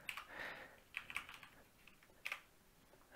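Light, quiet keystrokes on a computer keyboard tap out in short irregular bursts, close by and alone.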